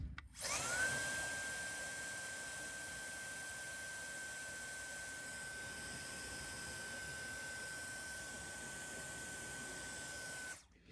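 High-pitched electrical whine from a motor leaking into a car audio circuit, a steady thin tone over faint hiss, holding unchanged for about ten seconds before cutting off.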